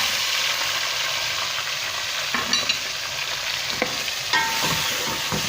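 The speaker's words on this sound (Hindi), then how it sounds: "हाणे असां हिन चिकन खे अदरक थूम सां ऐं लूणु विझी इन तेल में असां भुनंदासीं" Pieces of chicken fry in hot oil, a bright continuous sizzle with occasional sharp crackles and pops, close and steady, no talking.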